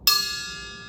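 A metal cup resting on a table, tapped once with a pencil, gives a bright bell-like ping that rings on and slowly fades, close and alone.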